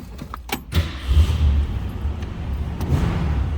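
1966 Ford Mustang Convertible starting up, with a few clicks and a key turn followed by the engine catching and settling into a low, rumbling idle close by.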